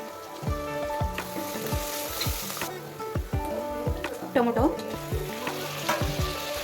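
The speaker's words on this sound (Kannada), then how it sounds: "ಈರುಳ್ಳಿನ ಚೆನ್ನಾಗಿ ಫ್ರೈ ಮಾಡ್ಕೊಬೇಕು." Onions and whole green chillies fry in oil for chicken biryani, a loud continuous sizzle broken by rhythmic scraping and knocking of a spatula stirring the pan, close up and without talking.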